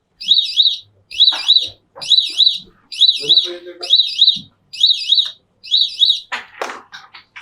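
Electronic flasher unit with buzzer alarm, being assembled in a small workshop, plays seven loud repeating warbling chirps that mimic birdsong, each about half a second long with short gaps between. Faint clatter sounds under the chirps, and a voice speaks briefly at the end.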